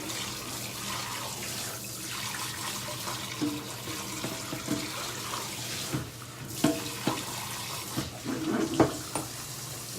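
Water runs into a kitchen sink while a peach cobbler is being cooked, a steady close hiss with a few clinks and knocks of items being set into the basin, no talking.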